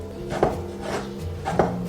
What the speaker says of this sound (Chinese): 香菇捞起来切条